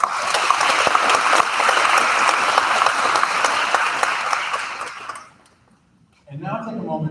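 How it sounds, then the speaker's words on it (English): Graduation audience at a 2023 ceremony giving a round of applause, dense sustained clapping for about five seconds that fades out, followed by a pause and then a speaker talking. "So let's give all of them a round of applause"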